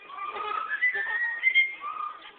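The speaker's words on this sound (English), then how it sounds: "how about whistling us a tune?" A parrot at a zoo whistles a short melodic tune, clear and fairly quiet, the notes sliding up and down with nothing else around it.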